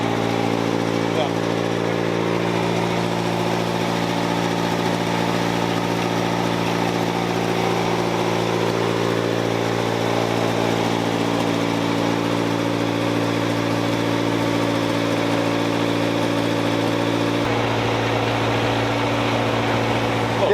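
A 1964 International Scout 80 engine running on a test drive after a tune-up, a steady droning hum that drops in pitch near the end, with people talking over it.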